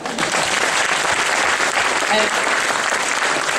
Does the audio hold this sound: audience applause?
yes